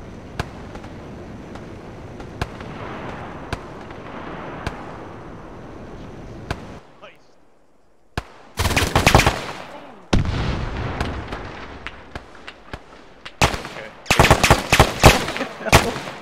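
Gunfire from a roof-mounted gun in the military game ArmA III, set in a German civil war scenario: sharp isolated shots over a steady background, then loud rapid bursts of automatic fire in several clusters.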